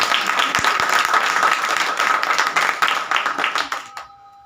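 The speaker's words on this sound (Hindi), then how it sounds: "तालियां बजाएं" A church congregation at a Sunday service applauds steadily in a dense, sustained burst of clapping that tapers off and ends abruptly near the close.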